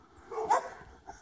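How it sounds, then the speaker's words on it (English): Dogs bark from behind a neighborhood fence in the morning: one short, moderately loud woof or yip, then a fainter follow-up bark, with no talking. "the dogs are saying good morning"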